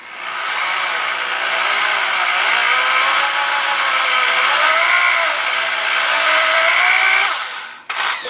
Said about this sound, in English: You want to push the reamer into the barrel,